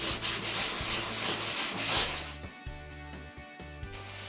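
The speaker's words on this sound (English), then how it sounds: "Now that our spackle is completely dry, we're ready for sanding. So I'm using a sand sponge" Brisk back-and-forth rubbing of a sanding sponge against dried spackle, a raspy scratching in quick repeated strokes, close up and alone.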